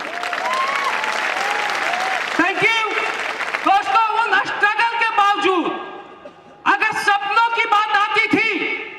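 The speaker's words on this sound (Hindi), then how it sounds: "अगर तालियां होती है तो दिखाई देना चाहिए एसलीपीएस वाले ताली।" Audience clapping at a motivational talk builds under someone speaker's voice, then fades briefly and swells again near the end, steady and fairly close.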